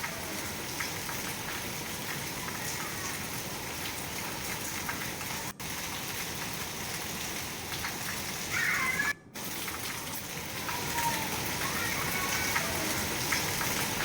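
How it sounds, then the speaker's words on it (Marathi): Heavy rain falling over flooded streets in Mangaluru makes a dense, continuous roar of downpour and rushing water, steady and loud with two brief dropouts, and no voices. "मंगळूरमध्ये इतका जोरदार पाऊस कोसळतोय की गाड्या पाण्याखाली वाहून गेल्या"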